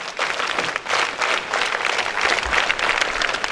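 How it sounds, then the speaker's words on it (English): A school audience at a Rashtriya Ekta Diwas event gives scout and guide claps, loud and continuous, with slight rhythmic surges and no clear voices. "let's welcome first of all the participants of different schools with a scout and guide claps"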